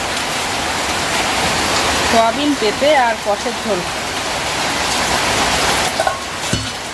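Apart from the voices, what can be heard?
heavy rain falling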